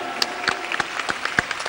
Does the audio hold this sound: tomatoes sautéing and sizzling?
no